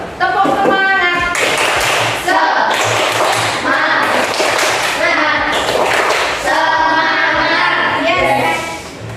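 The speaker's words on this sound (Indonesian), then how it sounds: "Kita tepuk semangat dulu yuk." Primary school pupils perform a rhythmic group clap in a classroom, bursts of synchronized claps in patterned beats separated by short pauses, with children's voices chanting along.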